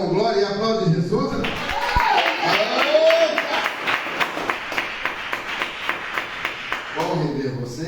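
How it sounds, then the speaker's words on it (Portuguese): Congregation in church clapping steadily in a regular rhythmic beat, many hands together, with a voice talking over the start and end. "Diz por aleluia com glória e aplaude Jesus"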